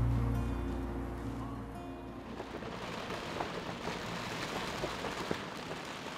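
Rain with quite strong wind in a Swedish summer on the island of Gotland, heard as a broad, continuous rush. It is heavier and rumbling at first, with scattered sharp patters and gusts continuing throughout.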